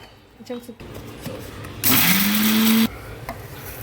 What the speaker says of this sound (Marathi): दुसरीकडे भाजलेले खडे मसाले मिक्सरला लावले